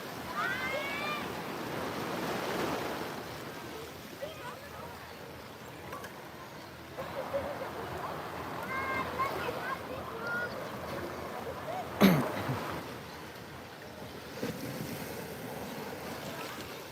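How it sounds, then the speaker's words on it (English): Ocean waves roll in and wash ashore with gusty wind buffeting the microphone, the surf swelling and easing while a person talks over it. "Oh, these waves are really coming in now."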